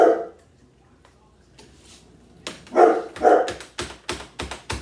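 After a single bark and a quiet pause, a dog lets out a rapid series of loud barks, close by.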